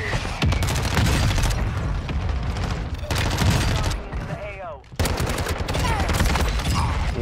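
MP5 submachine gun fire in a video game comes as dense, loud continuous bursts with brief pauses between strings, while a voice talks underneath.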